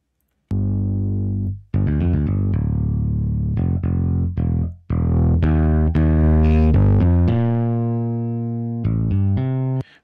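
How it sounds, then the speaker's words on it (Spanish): Saturator plugin distortion in the Reaper DAW gives a loud, gritty, buzzing tone over a series of sustained synth-like notes. The notes stop and restart in short phrases, with no talking. "Esto ahí me va a dar una distorsión muy alta."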